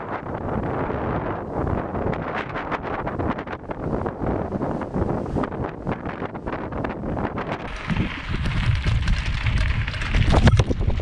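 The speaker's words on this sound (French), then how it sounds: "Énormément de vent." Strong wind buffets the microphone in loud, gusting roars that swell and intensify toward the end, with no voices.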